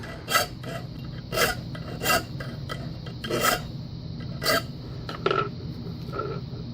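A hand file rasps the sharp corners off a metal key blank in repeated, close scraping strokes, roughly one per second, with quieter rubbing between them.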